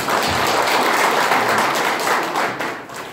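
Sustained applause from a seminar audience at a golf teaching education session in a golf practice range seminar room, loud, dense clapping filling the whole stretch before tapering slightly at the end.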